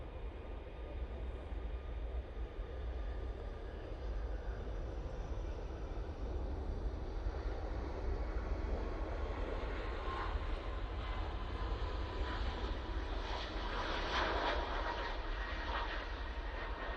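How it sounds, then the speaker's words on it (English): Ryanair Boeing 737 MAX 8 jet departing Manchester Airport, a steady broad engine roar that swells slightly toward the end, heard from a distance with no talk. "There goes the Ryanair 737 MAX 8"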